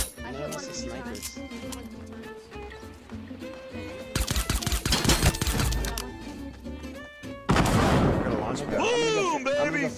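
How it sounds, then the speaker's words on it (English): Gunfire in a squad shooter video game, including pistol shots: loud sharp reports and clustered bursts, with in-game sounds and voices mixed in. "Just fire the pistol."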